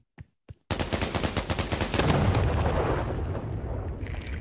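In the VR shooter Pavlov VR, a bomb goes off after two sharp short bangs: a sudden loud blast followed by a long crackling roar of rapid pops that slowly fades and thins out.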